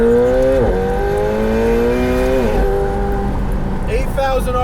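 A 2020 McLaren 720S Spider turbo engine revs high toward 8,000 RPM with sharp pitch rises and quick gear-change dips, loud and close, with talk faintly underneath.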